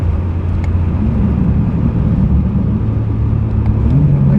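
BMW G80 M3 with a Valvetronic HFD midpipe droning in a steady low exhaust rumble from inside the car, the engine note shifting slightly near the end, with faint, muffled pops barely standing out.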